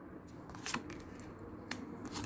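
Soft shuffling and slapping of tarot cards being handled and laid out on a table, quiet and close, with a few sharper flicks.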